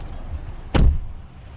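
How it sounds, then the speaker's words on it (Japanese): The door of a Mazda CX-50 shuts with a single solid, muffled thud, heard close up against a quiet background. "ドアを閉めた時の静粛性チェックをしてみましょう。"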